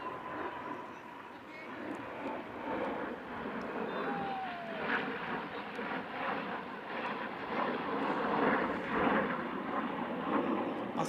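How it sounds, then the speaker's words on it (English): Aircraft rumble overhead near an army base, a broad, steady roar that swells slowly, heard from outside at a UK American football game, with people talking nearby. "I think there's an army base near here, if you can hear those planes."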